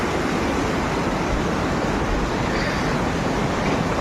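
A river swollen by overnight rain rushes past a broken bridge, making a loud, continuous, even roar that fills the whole clip without pause.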